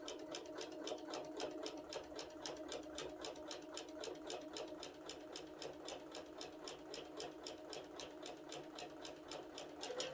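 A sewing machine fitted with a walking foot runs steadily, quilting lines through fabric and batting, its needle pounding out a fast, even mechanical rhythm up close for the whole stretch with no talking.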